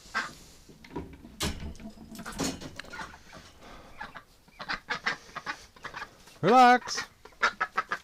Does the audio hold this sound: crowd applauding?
no